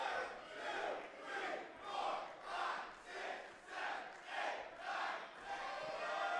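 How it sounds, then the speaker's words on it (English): A pro wrestling crowd at a Phoenix Pro Wrestling show chants a count in unison, about eight rhythmic swells roughly a second apart, heard from a distance with steady crowd noise between the beats. "And the crowd counting along"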